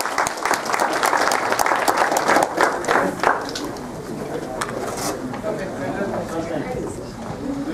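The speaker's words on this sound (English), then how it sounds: "A clap for Satya." An audience at an academic conference on caste, gender and pedagogy claps, with dense, crowded clapping for the first few seconds that then thins out beneath murmuring voices.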